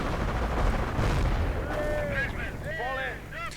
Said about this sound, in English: we are seeing artillery against the MD bunker in the center. And M10 fire. Bazooka fire.